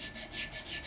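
Sanding cloth rubbed back and forth on a copper pipe to clean it, a close rhythmic scratchy rasp in about four quick strokes.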